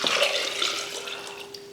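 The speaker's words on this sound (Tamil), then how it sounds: "முங்குற அளவுக்கு தண்ணி ஊற்றிடலாம்." Water running and splashing into a pressure cooker pot holding potato and boneless chicken, a steady close pour with light dripping, no voices.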